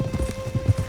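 Horse hooves in the video game Red Dead Redemption II beat in a quick, rhythmic galloping clip-clop over about a second, close and fairly loud, with a faint steady tone underneath.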